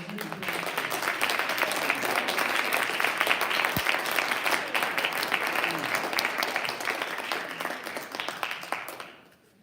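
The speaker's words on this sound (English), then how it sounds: "We were going to give her a round of applause." Sustained applause from a seminar audience on gender and sexual identity, dense steady clapping from a room full of people lasting several seconds before tapering off quickly at the end.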